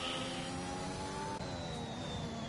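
A high-revving Alpine race car engine from a racing video game whines continuously and loudly at a steady pitch, with a slight shift partway through and no voices over it.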